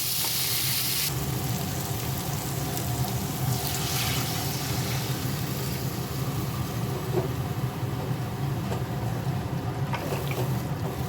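Ground spice paste frying in a pan for a fish curry, giving a steady, continuous sizzle and bubbling hiss that holds at an even level throughout, close by, with no talking.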